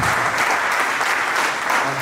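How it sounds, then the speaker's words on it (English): Sustained applause from an audience after a panel discussion on women empowerment, a dense, steady wash of many hands clapping at even loudness throughout, with no voices standing out. "I think they deserve a huge round of applause."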